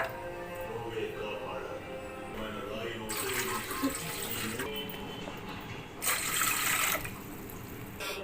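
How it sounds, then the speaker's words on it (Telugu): Three glasses of water pour and splash into a bowl in a couple of bursts over a steady hiss, with a voice faintly in the background. "దాంట్లో ఈ కప్పు సైజుతో 3 గ్లాసులు నీళ్ళు పోసుకోవాలి"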